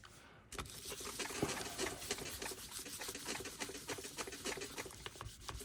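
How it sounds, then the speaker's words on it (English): Close, rapid rubbing strokes burnish a polymer clay cane slice veneer onto a bangle blank, a steady scratchy patter that continues throughout at low volume. "now we need to burnish. Can never burnish too much"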